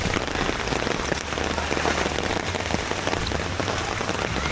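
Rain falls steadily on a Mumbai night, a dense even patter of drops on surfaces, moderately loud and continuous with no voices.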